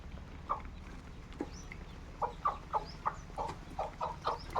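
Free-range country chickens clucking in a farmyard, with a series of short, soft clucks in quick succession over a quiet background, some faint chirps between.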